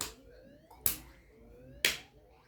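Two sharp hand claps ring out about a second apart, each followed by faint rising electronic tones that glide upward between them.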